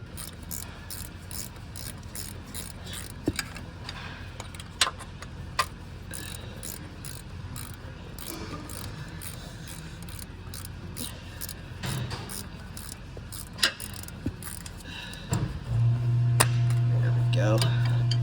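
A ratchet clicks in repeated bursts as bolts come off a 2016 Honda Pilot during a timing belt replacement, with scattered metal clinks and a steady hum rising near the end.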